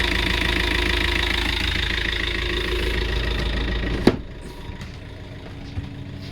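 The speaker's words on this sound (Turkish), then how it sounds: "Hemen size bir motoru da göstereyim saat gibi çalışıyor." The inboard engine of a 2016 Beneteau Oceanis 48 sailboat idles with a low, even chugging rhythm, then a sharp knock and the running drops away to quieter background.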